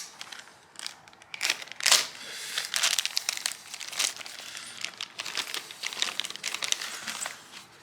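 Paper packaging crinkles and crumples in repeated bursts as a freshly delivered vehicle part is unwrapped up close, with louder rustles between quieter handling and no talk.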